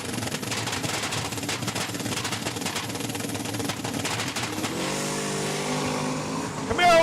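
A 1979 Camaro launching down a drag strip at Saskatchewan International Raceway: a loud, roaring engine rev that blares continuously, then settles into a smoother, steadier tone as the car pulls away.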